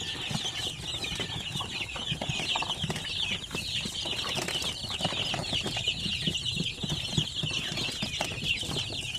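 Dense clucking and peeping of chickens and newly hatched chicks on a poultry farm, a continuous busy chorus of overlapping calls close by with occasional wing rustles.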